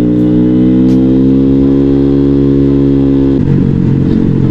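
A motorcycle engine revs hard and loud up close, holding a strong steady roar before dropping abruptly into a rougher, lumpier idle near the end.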